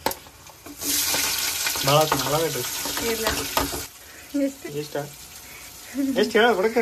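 Curry leaves and peanuts drop into hot oil for tempering, bursting into a loud, close sizzle that crackles on and fades while someone speaks over it.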